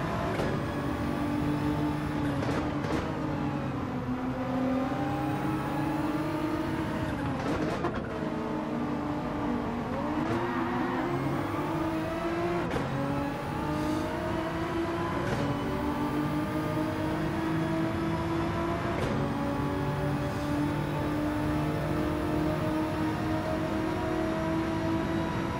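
A race car drives hard around Michelin Raceway Road Atlanta, its engine loud and steady throughout, rising and falling in pitch through repeated revving and shifting, with no talk over it.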